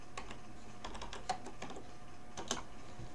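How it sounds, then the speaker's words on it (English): Keys clatter on a computer keyboard as a web address is typed into a browser bar, a quick irregular burst of close, light clicks with brief pauses between groups. "So I'm going to come up to this bar up here and type in my URL"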